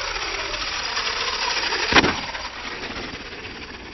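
Brushless motor of a Redcat Dingo 1/16 RC desert buggy revving, a buzzing whine that swells into a sharp peak near the middle and then settles back to a lower hum.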